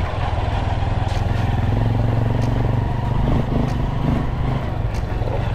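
A motorcycle rides along outdoors, its engine a steady close rumble with light clatter from road and body, heard alone for several seconds.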